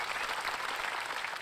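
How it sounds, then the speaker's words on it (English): A brief burst of applause, dense and even, with clapping hands filling the moment on a gossip podcast. "Give that some applause for sure."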